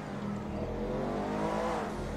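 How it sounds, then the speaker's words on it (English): The twin-turbo engine of a 2018 Lamborghini Urus revs on a highway exit, heard as a muffled, steady rising drone from inside the cabin, moderately quiet and without talk. "I'm gonna give you a couple revs, let you hear what this engine's all about."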